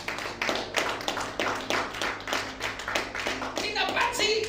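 A church congregation claps during a worship service, a crowd of hands beating in a loose rhythmic pattern for several seconds, with voices mixed in underneath.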